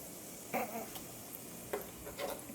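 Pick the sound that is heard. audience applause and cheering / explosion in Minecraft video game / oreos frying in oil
oreos frying in oil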